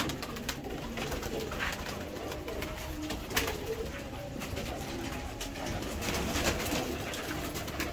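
Domestic pigeons, a kept pair, cooing at a rooftop loft, a soft repeated low burble over constant background noise, with occasional faint rustles and no clear speech.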